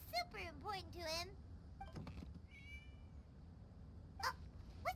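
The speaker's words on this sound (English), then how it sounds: "It was just a cat." A cat in the video game Genshin Impact meows several times, rising and falling cries with a short trill, fairly near, with quiet game ambience and other faint sounds between calls.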